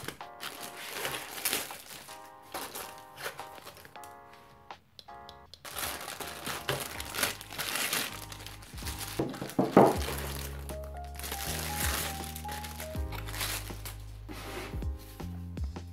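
Rustling and crinkling of packaging as an electric wine bottle opener is unboxed, with scattered cracks, taps and shuffles near the microphone and a quiet stretch midway.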